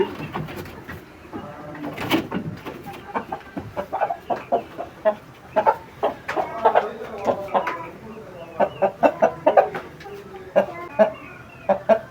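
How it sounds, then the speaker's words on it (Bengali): Red-feathered fighter chickens on a farm, clucking in short repeated bursts at close range, with clearer calls spread through the second half over low background noise and some talk. "এটা হলো আমাদের রেড কালার ফাইটার মুরগ।"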